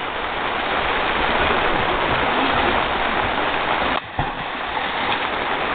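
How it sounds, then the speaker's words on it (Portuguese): Heavy rain pouring steadily during an outdoor island barbecue, a dense continuous hiss close by with a brief dip and thump near the end. "Chovendo pra caralho."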